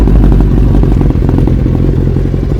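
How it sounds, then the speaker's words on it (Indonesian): Suzuki Hayabusa GSX1300R motorcycle idling loud and close: a deep, steady, throbbing engine rumble with a slight clattery texture and a small blip near the middle. "kita bakal cek sound suara Hayabusa nih."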